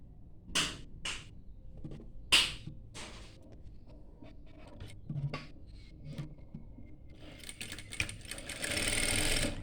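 Sewing machine stitching a petticoat on the left side, heard as a few brief mechanical runs and clicks with quiet gaps, then a longer steady whirring stretch near the end, close and fairly soft.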